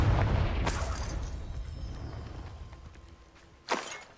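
A Confringo blasting spell bursts in Hogwarts Legacy, opening with a loud boom that fades into a long rumbling decay, followed by a second sharp crack near the end.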